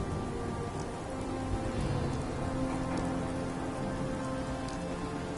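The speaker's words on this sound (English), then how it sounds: "Hope this rain lets up soon." Steady rain falling in a video game, a dense, even hiss of drops hitting the ground with no break and no voices, with maybe a faint low rumble beneath.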